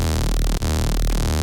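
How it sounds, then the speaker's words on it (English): A buzzy, distorted sawtooth synth tone from Serum with two-voice unison plays steadily and loudly, with a brief dip partway through and a phasing shimmer across the sustained note. "we have a unison of 2 in here in serum on a basic saw wave"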